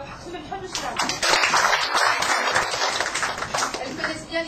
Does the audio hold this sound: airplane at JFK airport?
no